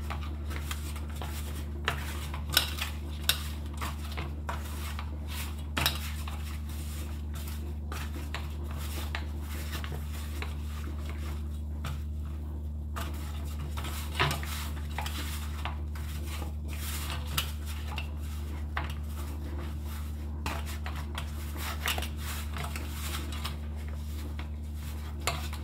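Pizza dough base being mixed in a bowl at home, with steady scraping and light clinks of utensil against the bowl over a constant low hum, close by with no talking.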